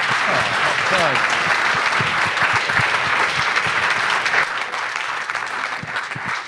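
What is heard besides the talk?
applause for speakers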